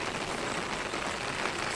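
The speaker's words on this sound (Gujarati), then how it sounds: "જો વરસાદ ફૂલ ચાલુ જ છે" Dense, even patter of rain falling steadily on a farm field, close and continuous for a short moment, with no voices.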